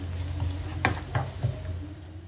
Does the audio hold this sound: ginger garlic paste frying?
yes